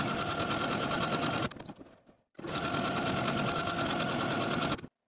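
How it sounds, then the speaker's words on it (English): Sewing machine stitching buttonholes on a pair of spring shorts, a loud close rapid chatter that runs steadily, stops briefly for about a second, then resumes before cutting off. "And now I'm going to go to my machine and sew those buttonholes."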